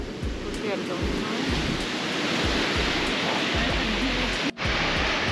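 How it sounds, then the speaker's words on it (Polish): Strong wind blowing on the Baltic beach at Władysławowo, a steady loud broadband roar of gusts and surf noise buffeting the microphone, continuous throughout with one brief dropout near the end. "I to nie jest tak, że wyjątkowo dzisiaj wieje, tylko wyjątkowo ostatnio nie wiało."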